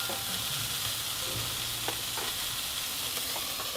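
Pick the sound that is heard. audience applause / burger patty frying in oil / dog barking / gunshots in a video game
burger patty frying in oil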